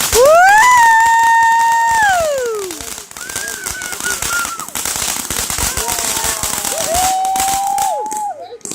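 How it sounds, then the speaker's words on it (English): Fireworks and firecrackers going off at a July 3rd celebration: loud whistling rockets with rising, sliding tones, then a dense crackle of bursts and pops that continues throughout, with more whistles near the end. "Fireworks!"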